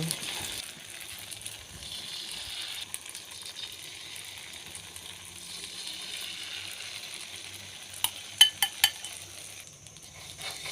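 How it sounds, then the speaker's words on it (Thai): An egg frying in a pan with sliced bitter melon gives a faint, steady sizzle, with a few sharp utensil clicks against the pan near the end. "ใส่ไข่ลงไปเลย"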